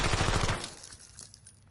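Automatic gunfire rattles in a rapid burst at a firing range in the video game Black Ops 7, then cuts off and leaves a short decaying echo.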